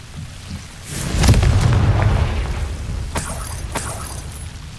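A fire spell explosion in the Hogwarts Legacy video game, a heavy rumbling blast building near the one-second mark and holding for about two seconds, followed by sharper crackling bursts that trail into a lingering roar.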